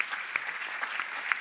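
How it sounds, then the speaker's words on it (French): Conference audience applauding in a hall as a speaker is introduced, steady dense clapping with a few sharper claps standing out. "On peut applaudir"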